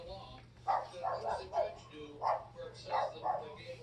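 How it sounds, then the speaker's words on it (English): Dogs barking in a few short bursts, fairly near, amid quiet background noise with a faint steady hum. "Of course, the dogs are barking."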